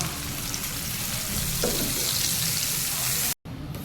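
Chopped onions and tomatoes fry in hot oil for a restaurant-style paneer tikka masala. A loud, steady, close sizzle runs throughout with a brief dropout near the end, and no one speaks.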